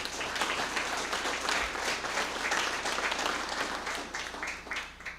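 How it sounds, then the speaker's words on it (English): An audience at a school district board meeting gives a round of applause for choir students, a continuous wash of clapping at moderate distance lasting several seconds and tapering off at the close. "Let's give them a round of applause."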